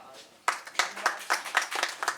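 Audience clapping at a Nepali comedy show, a burst of scattered hand claps starting abruptly and continuing in uneven, fairly close rhythmic bursts.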